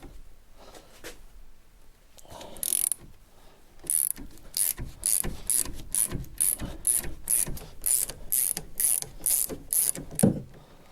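A ratchet turning a 14mm star socket to undo the front brake caliper bolts on a Lotus Evora, giving a steady run of close, crisp clicking strokes in repeated bursts, with no talk.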